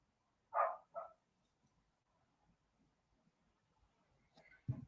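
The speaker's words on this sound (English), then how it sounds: "Next door's dog." A neighbouring dog barks twice in quick succession at moderate distance, then falls quiet before another short sharp bark near the end over a quiet room.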